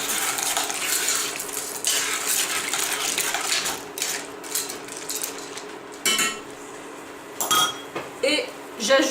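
A spoon stirs a pot of mushrooms with mustard, broth and added boiled water, making scraping, clinking strokes against the metal in uneven bursts, close up, with faint sizzling beneath.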